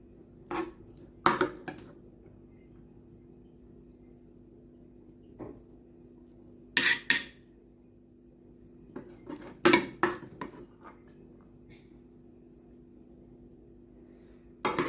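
A spoon scraping and clinking against a plate as rice and sauce are served, a few sharp separate clinks and taps spaced across a quiet room with a low steady hum, and no talking.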